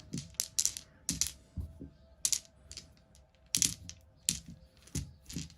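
Extra dice from a Deep Rock Galactic collector's edition board game clatter and rattle in several short, crisp bursts across a hard surface, close and fairly quiet.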